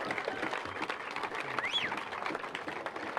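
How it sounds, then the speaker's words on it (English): An audience applauds two surfing finalists being called up on stage at Surfest 2015; steady, dense clapping fills the whole span at moderate loudness, with a brief whistle partway through. "give them a big round of applause for Ellie Brooks and Philippa Anderson"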